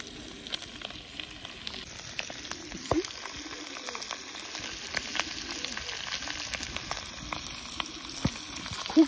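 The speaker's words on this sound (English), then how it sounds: "It's frying, actually." Food sizzling and frying in a pan over a fire in a Zambian village, a steady crackling hiss with scattered pops and clicks, close and continuous with no talking.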